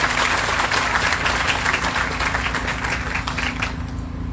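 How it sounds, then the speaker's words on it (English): Sustained applause from a seaside pilgrimage gathering, a thick steady wash of clapping that fades out near the end. "I think she deserves another round of applause"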